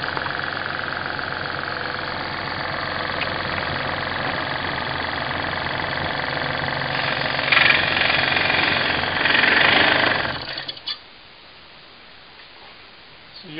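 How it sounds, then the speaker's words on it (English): A scroll saw fitted with a spiral blade cuts pallet wood, giving a steady, loud buzzing rattle for about ten seconds before it abruptly stops and leaves near silence. "using a spiral blade on a scroll saw"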